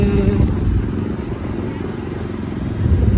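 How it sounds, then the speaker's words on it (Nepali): A motorcycle engine rumbles steadily up close, heard by someone riding pillion, with wind noise and a voice talking over it. "सरले बाइक चलाइरहेको छ"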